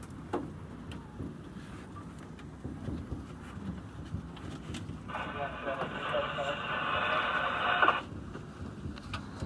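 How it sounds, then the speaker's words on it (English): Radio static on the tram radio channel of the Jasper SkyTram comes as a steady hiss lasting about three seconds in the middle of the clip, louder than the low cabin rumble around it. "And 9, that was static."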